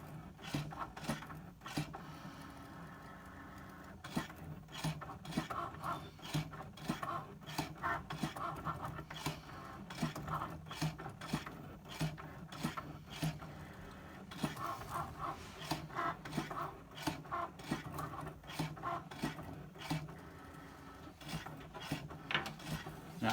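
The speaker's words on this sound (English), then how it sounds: "Now the embossing tool is putting down the foil." Maker cutting machine with an embossing foil tool pressing foil onto card: a continuous faint mechanical rasping and whirring with rapid, rhythmic ticking and scraping strokes throughout.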